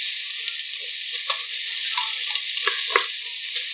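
Onions fry in a pan with a steady, bright sizzle, punctuated by a few soft stirring clicks and scrapes, close up and with no talking.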